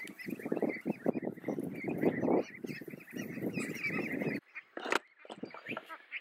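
Meat ducks raised at a farm colony honk loudly in a pen, with dense overlapping calls up close, a short pause, and then a few more sharp honks.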